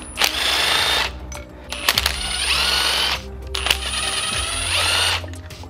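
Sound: rattle gun impact wrench on Audi 1.8T engine bolts

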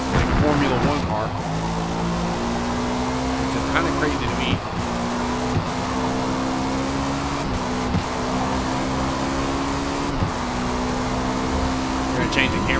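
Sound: Cadillac race car driving in Forza Motorsport video game

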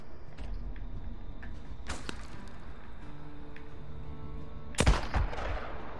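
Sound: sniper rifle shots in the video game Days Gone

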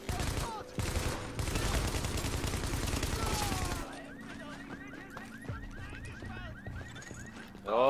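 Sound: gunfire in The Division video game

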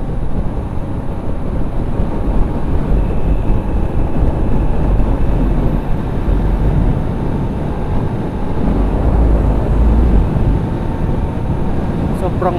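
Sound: strong wind noise on microphone while riding a motorcycle

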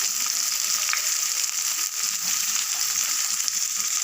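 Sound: chopped onion and black cumin frying in oil

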